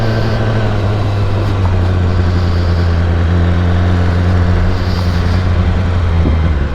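A 2018 BMW S1000RR sport motorcycle ridden on a loop, its engine a loud, steady drone with wind noise throughout, no talk.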